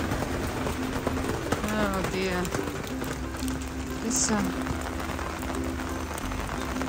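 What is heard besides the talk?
heavy rain while walking up a road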